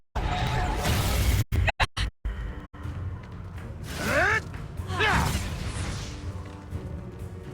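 Confringo fire spell cast in Hogwarts Legacy combat: a loud fiery whoosh and crash with choppy cut-outs, then swooping magical tones and a second whoosh trailing into lingering rumble.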